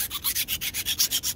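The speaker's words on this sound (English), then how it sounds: "When you're filing your edge, there you go." A hand file is pushed along the metal edge of a 5-in-1 painter's tool in quick, even strokes, about ten rasping scrapes in a steady rhythm, close and alone.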